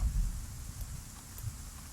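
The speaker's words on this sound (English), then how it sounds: "we've got a load of rain, and you can hear the difference in the way the rain hits buildings" Heavy rain in the Arma 3 game world drums on buildings as a steady, dense wash of low rumbling noise that holds throughout with no voices.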